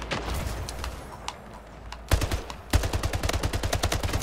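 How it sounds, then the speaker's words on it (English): Rapid gunfire in the online shooter Splitgate, fired at the player in a portal-based match: bursts of sharp, fast shots, sparse at first and then dense automatic volleys near the end, with no talking. "Whoever's that shooting me, leave me alone."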